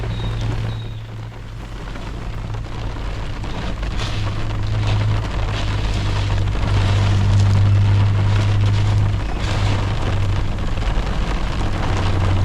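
Hail drumming on the roof of a car carrying a van-life rig during a hailstorm in Gympie, a dense, continuous rattle heard close and loud from inside, with a steady low rumble underneath throughout.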